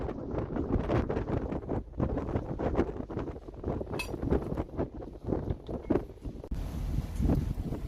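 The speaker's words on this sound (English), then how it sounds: "It is much windier than we would normally cruise." Strong wind buffets a trawler cruising in rough, gusty conditions, roaring in uneven bursts against the microphone with occasional faint clinks aboard and no talking.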